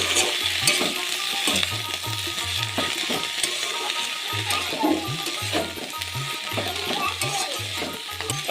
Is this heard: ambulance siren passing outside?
no